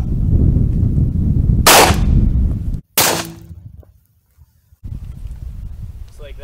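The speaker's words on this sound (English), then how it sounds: "here's a 357 mag hollow point" A .357 Magnum hollow point round fired outdoors at a bulletproof airplane window, two sharp loud gunshot cracks about a second apart, each followed by a brief ring and then quiet, with light wind noise before.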